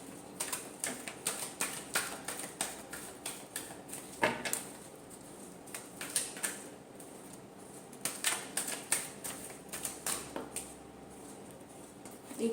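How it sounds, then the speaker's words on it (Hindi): Tarot cards are shuffled close by in quick bursts of crisp, rapid clicking and flicking, with short pauses between rounds and faint handling noise. "एक शफल और हम करेंगे।"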